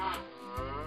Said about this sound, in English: It sounds like moo. What animal says moo? I know it. It's a cow.